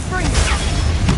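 Bombarda blasting spell in the video game Hogwarts Legacy, a loud, dense explosive boom with rumbling low end that fills the moment, with a voice speaking over it.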